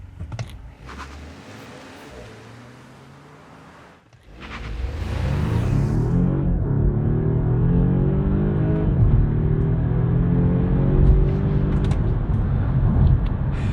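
A 2023 Volvo S60 Black Edition plug-in hybrid launching hard in power mode, a faint interior hum giving way to a strong engine roar that climbs steadily in pitch and stays loud as it accelerates.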